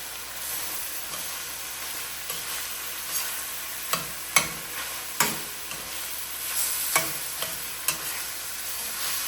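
Bikol express being stirred in a sizzling pan, a continuous hiss of frying punctuated by several sharp scraping clicks of the utensil against the pan at irregular intervals, close and clear with no talking.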